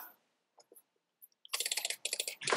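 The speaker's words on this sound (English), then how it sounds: "All I hear you is clicking." Clicking of a computer mouse or keyboard during a faction PvP game: sparse faint clicks at first, then a dense rapid burst of close, crisp clicks and taps.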